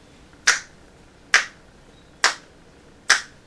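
Four crisp finger snaps ring out one by one at an even, unhurried pace, close and clear against a quiet room with no speech.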